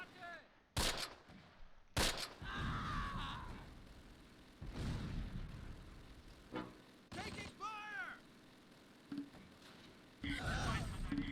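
Gunfire in the wartime strategy game Close Combat: sharp shots and bursts crack out irregularly, some loud and close, others distant, with explosive thumps mixed in and someone talking between them.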